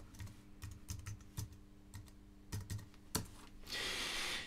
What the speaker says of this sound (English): Type in your password and OK it.